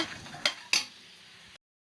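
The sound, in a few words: stirring masala in a pan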